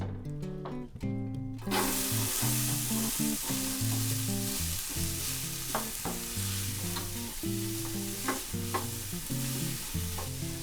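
Onions hit a hot pan and fry with a loud, dense sizzle that continues steadily, with occasional stirring knocks, while music plays underneath.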